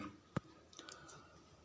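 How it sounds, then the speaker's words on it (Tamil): A single sharp key click from a computer keyboard as Enter is pressed, followed by a few faint softer clicks over a quiet room background. "gmail.com அப்படின்னு டைப் பண்ணிவிட்டு ஒரு என்ட்ரை கொடுத்துருங்க"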